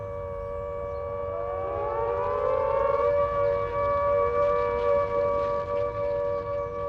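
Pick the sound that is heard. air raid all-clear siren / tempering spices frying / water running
air raid all-clear siren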